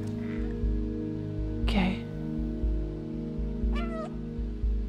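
Cat meowing in the video game Stray, two distinct meows about two seconds apart over a steady low pulsing background hum.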